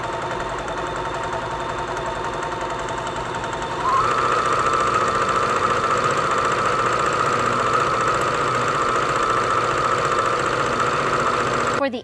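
A Baby Lock Quest Plus quilting machine sews pieced fabric, a steady mechanical hum and whir that starts near four seconds in and runs continuously, close and fairly loud, with no talking.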